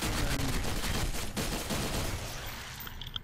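Rapid gunfire rattles in a video game survival mod, a dense continuous burst of loud shots that thins out toward the end.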